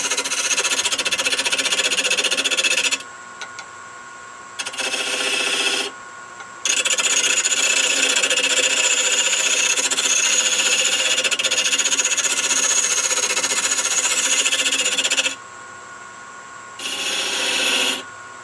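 A buffer wheel turns on a lathe while being cleaned up, loud rasping cuts of several seconds each broken by quieter pauses of steady machine hum, close and with no talk.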